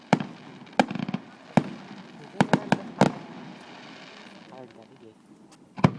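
Sharp Canada Day fireworks bursts crack irregularly in Hanna, Alberta, several in quick succession then a pause and one more, with crowd chatter and murmuring between the bangs.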